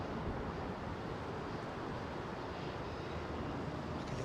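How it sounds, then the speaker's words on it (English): An Airbus A320 airliner roars while departing Heathrow's southern runway, a loud broadband jet rush heard from a distance that holds steady without a break. "that was a very noisy aeroplane going out of the southern runway there"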